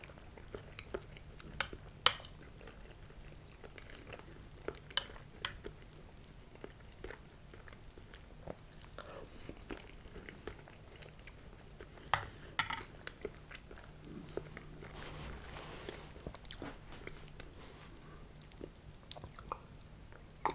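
Crunchy, quiet chewing and biting of cinnamon toast and Rice Krispies cereal, with occasional light cutlery clinks against a bowl, close and intimate with no talking.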